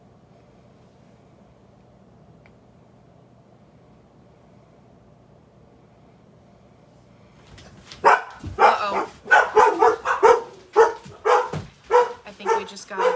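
Dogs barking at an Amazon delivery come in suddenly after a long quiet hum, loud and close, a burst of overlapping barks and yips with a voice speaking among them.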